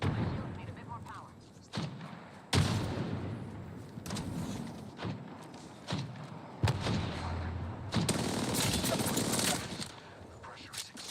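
Bursts of gunfire and explosive thuds in the Apex Legends battle royale game, repeated sharp shots and heavy impacts coming in uneven clusters, loud and close throughout.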